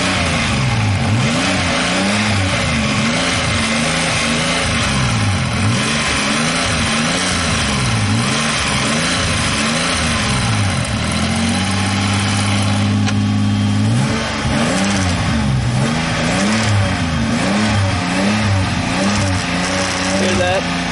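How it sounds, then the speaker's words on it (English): With the engine running, a car's gear shifter gives off a loud, steady vibrating buzz over the idling engine drone, whose pitch wavers and swells a few times, close up. "Shifter makes a little bit of a vibration sound."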